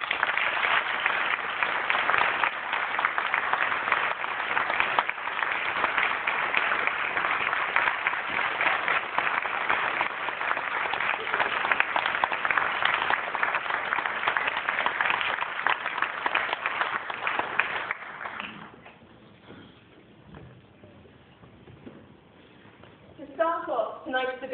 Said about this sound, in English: please join me in a big round of applause to welcome our guest speakers for this evening